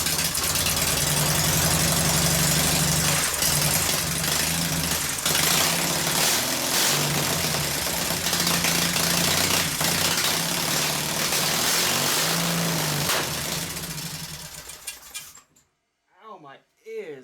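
Onan engine cranks and runs loud and steady with a rough, knocking idle for about fifteen seconds, then cuts out abruptly, leaving a few brief faint sounds and a voice.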